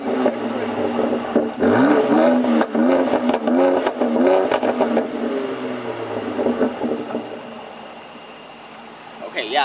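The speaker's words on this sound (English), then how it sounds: "And this is what the car sounds like with the valves open." A Mercedes-AMG exhaust with its valves open, revving loud and close in repeated rising and falling bursts that carry a deep throaty tone, then settling toward idle near the end.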